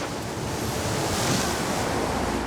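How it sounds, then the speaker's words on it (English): Heavy early-winter rain in BC's Fraser Valley roars as a dense, unbroken hiss, loud and close, steady throughout. "It's raining pretty hard down here."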